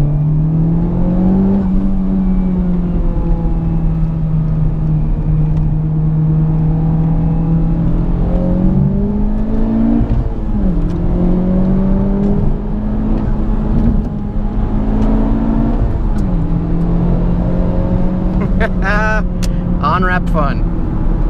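A Honda Civic Type R engine drones steadily, then briefly revs and dips a few times during heel-toe downshifts, with faint talk underneath.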